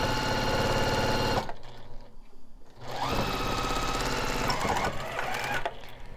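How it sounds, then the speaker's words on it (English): A sewing machine stitches a long quarter-inch seam on a churn dash quilt block, running loud and fast with a rapid needle rhythm. It slows briefly midway, then speeds up again. "sew a long seam right along the edge there"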